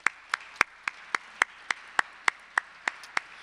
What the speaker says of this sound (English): please join me in another round of applause for our panel and moderator